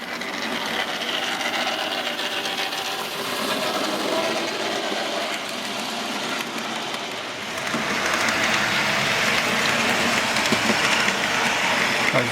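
Model railway trains run on a loft layout, including a parcels train: a continuous close rattle and clickety-clack of wheels over track joints, steady and fairly loud, growing busier and brighter partway through.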